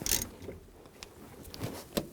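A nut on the positive battery cable of a 2007-2013 BMW 328i is snugged down, giving a few sparse, faint, close metallic clicks and taps with quiet gaps between them.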